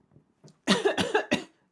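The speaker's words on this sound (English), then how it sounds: "I'm starting to cough again." A person coughs in a short fit of several harsh bursts close to the microphone, following a faint quieter cough, with no talking.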